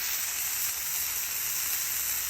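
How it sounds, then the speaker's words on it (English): A smash burger fries in its own juices on a griddle, a steady, even hissing sizzle heard close up with no other sounds. "You got to let the burger fry in its juices."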